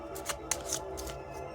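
Tarot cards being shuffled by hand, a short quiet burst of papery riffling and flicks with several quick card slaps in under two seconds, close and without talk.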